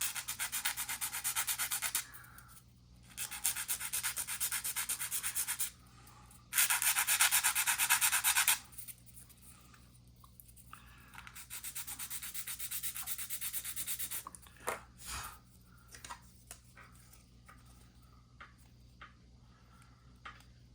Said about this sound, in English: I can take this and start sanding away